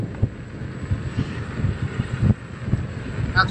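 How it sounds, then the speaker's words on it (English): Gusty wind buffeting the microphone in low, uneven rumbles and thumps while riding an electric unicycle, with a steady faint hum underneath. "that's one windy ride"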